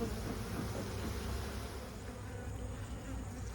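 Agitated honeybees at an open hive give off a dense, steady buzzing drone, close and continuous, with no voices over it.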